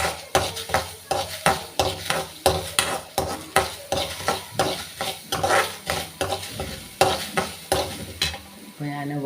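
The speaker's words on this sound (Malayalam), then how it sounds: "നമ്മൾ അരി പൊരിഞ്ഞ് വരുന്നുണ്ട് കേട്ടോ" Rice dry-roasting in a pan, stirred with rapid rhythmic scraping strokes, dry rattling grains and a light sizzle, close and fairly loud throughout with no talk.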